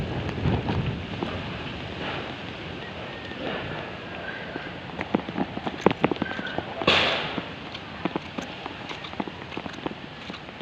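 Gusty typhoon wind buffeting the microphone outdoors, with scattered knocks and clatter and a faint voice now and then.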